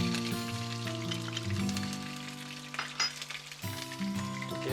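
Shallots and garlic sauté in a pan with a steady, moderately loud sizzle, while sustained background tones hold underneath and no one speaks.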